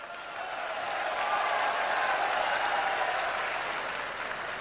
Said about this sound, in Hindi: आप ताली बजा रहे हो, मीडिया नहीं दिखाएगी।